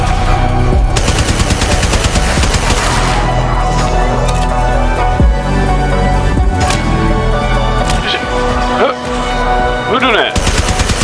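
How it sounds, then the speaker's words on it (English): Gunfire in the video game Deadlock: dense, loud rapid-fire shooting and bursts running almost continuously over game music and effects, with players' voices mixed in. "You're shooting me now."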